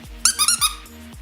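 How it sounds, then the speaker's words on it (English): Squeaky toy squeezed in four quick, high, shrill squeaks close to the mic, followed by faint softer squeaks over low background hum. "Someone loves squeaky toys."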